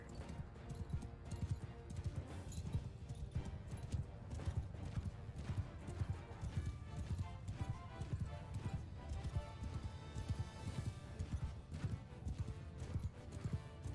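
Rapid, continuous hoofbeats from a mass of cavalry horses galloping across a battlefield in the video game Bannerlord, loud and close, with occasional whinnies and no speech.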